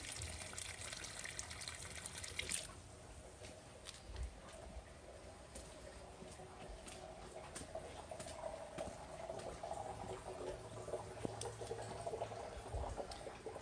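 Rainwater runs steadily into eight catchment barrels filling together, a continuous trickling, splashing wash heard up close with no talking.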